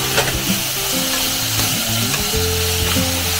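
Mushrooms sautéing with white onion in a hot pan for a black pepper burger sauce: a close, continuous sizzle with scraping stirring strokes running throughout.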